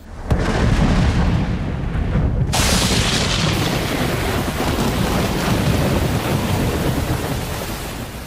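Heavy rain pours steadily onto a fast-flowing freshwater river during a fishing outing, a dense continuous hiss with low rumbling, as if thunder rolls underneath; the downpour stays loud and unbroken throughout.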